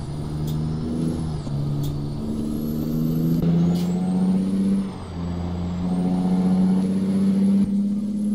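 Air brake on a heavy truck in American Truck Simulator, released over a steady low engine rumble, with sharp hissing bursts and a rising whine sounding throughout at fairly loud level.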